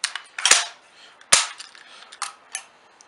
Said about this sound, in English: the reason I released the bolt forward